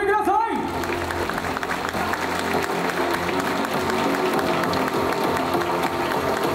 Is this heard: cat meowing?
no